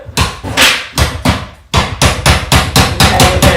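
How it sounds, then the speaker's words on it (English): Wooden wedges are hammered in under a Christmas tree, with a series of loud, sharp hammer blows that start spaced out and then come in a faster, even rhythm, close by. "I'm essentially hammering in some wedges"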